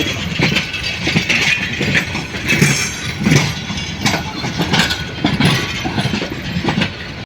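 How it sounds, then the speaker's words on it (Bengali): A locomotive engine moves about Kamalapur railway station in Dhaka, heading off to couple with carriages; steady rumbling station noise with repeated clanks and rattles runs throughout at a fairly loud, close level. "ইঞ্জিন গিয়ে এখন বগির সাথে লাগবে"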